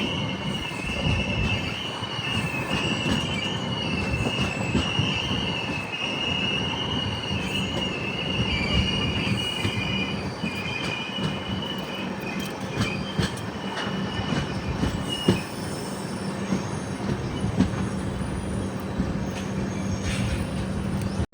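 The Devagiri Express rolls into Kanapet Junction station, its wheels squealing steadily and loudly on the rails over a continuous rumble, with occasional clanks of the cars.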